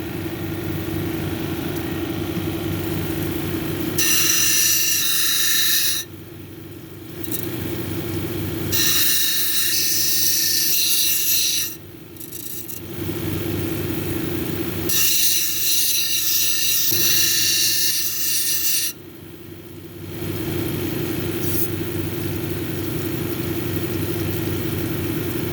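A lapidary grinding wheel reshaping the girdle of a leopard skin jasper cabochon: a constant motor hum broken by three harsh, scraping grinding bursts of a few seconds each as the stone is pressed to the wheel.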